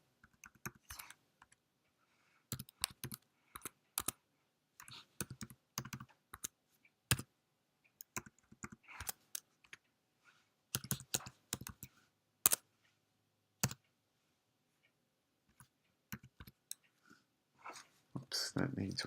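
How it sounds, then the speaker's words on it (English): Bursts of keystrokes on a computer keyboard while entering an assembler program, close and fairly quiet, in irregular clusters separated by pauses, with a denser run of typing near the end. "Just give me a moment to type this all in"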